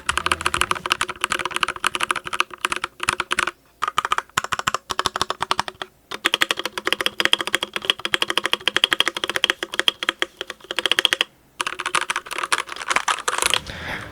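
Fast typing on an RK61 mechanical keyboard before any tape mod, a dense stream of sharp clacky keystrokes with brief pauses between bursts, close and clear.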